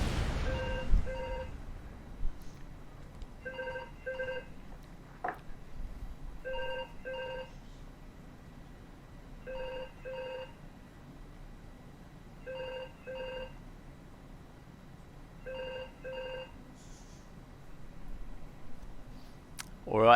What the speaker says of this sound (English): I'm going to pause while the phone rings.